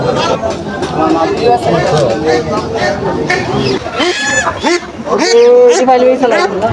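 Chickens, hens and roosters at a busy village market cluck and call loudly and repeatedly, mixed with dense crowd chatter and people talking close by.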